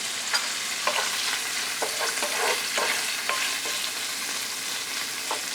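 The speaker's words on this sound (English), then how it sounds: "this is starting to sizzle" Food sizzles steadily in a hot frying pan while making spaghetti carbonara, with scattered crackles and pops and a few utensil scrapes; no one speaks.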